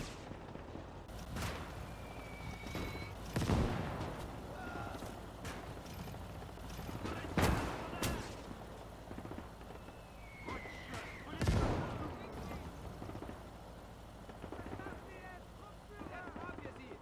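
Mortar rounds firing and exploding in the WWII game Gates of Hell, heard as several sharp, loud booms spaced a few seconds apart over steady battlefield rumble, with a voice talking throughout.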